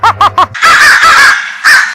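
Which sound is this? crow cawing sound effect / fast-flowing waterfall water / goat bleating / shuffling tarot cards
crow cawing sound effect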